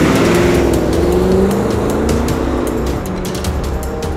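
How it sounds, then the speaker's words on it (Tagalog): A stolen police car's engine roars up close and revs as it pulls away in an escape, the loud motor tone easing slightly toward the end. "Ginamit niya sa pagtakas ang kotse ng mga pulis."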